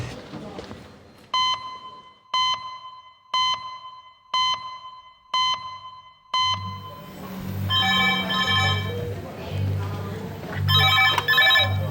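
Emergency department red phone at a busy London A&E, ringing in six evenly spaced trilling bursts, then giving way to background voices and ward noise.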